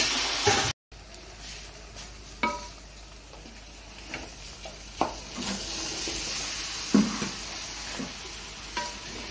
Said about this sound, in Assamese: এইখিনি ভাল কৰি ভুনি ল'ব লাগিব।